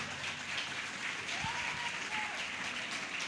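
Church congregation applauding during a sermon, a continuous, even wash of many hands clapping at steady volume, with a faint voice briefly audible in the background.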